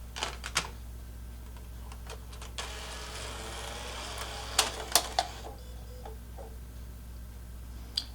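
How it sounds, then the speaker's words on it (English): A PS3 Phat Blu-ray drive, under repair, loads a disc with a faint mechanical whir and a few sharp ticks and clicks over a low steady hum, all quiet and close. "First, it pulls the disc into the drive"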